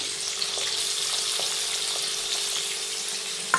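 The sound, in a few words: garlic and onion paste added to frying pan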